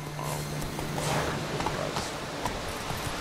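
Hooves of Roach, the horse in The Witcher 3, clip-clopping at a walk over ground, a steady moderate rhythm of soft thuds amid a rustling outdoor ambience.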